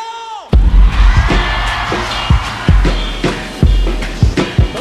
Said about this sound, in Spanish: quiero escuchar un grito ranchero